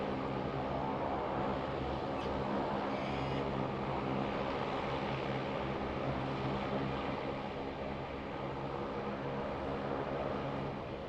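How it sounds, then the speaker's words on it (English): Rex Airlines aircraft arriving at Sydney Airport, a steady broadband engine roar that stays loud and constant throughout, with no talk. "All that noise coming from the Rex Airlines just arriving there on screen."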